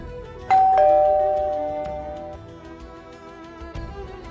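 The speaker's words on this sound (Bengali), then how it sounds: "এই জন্যই তো তোমার বাসায় কলিং বেল টিপলে আমি ফোনে শুনতে পাই।" An electronic ding-dong doorbell rings once loud and close, its two tones ringing out and slowly decaying, followed by a fainter repeat of the chime near the end.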